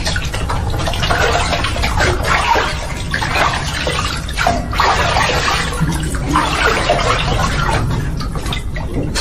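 Continuous rush of water pouring for a bath, a shower-style stream fed by a pump from a tubewell below, steady and fairly loud throughout with splashing texture and no talk.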